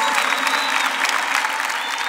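Church audience applauding at a Catholic event, a steady dense wash of many hands clapping, loud and continuous throughout with no pauses.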